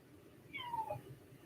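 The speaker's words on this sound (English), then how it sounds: "Oh, the kitty cat is crying" A house cat meows once, a short, faint falling cry heard from a little distance over a quiet room hum.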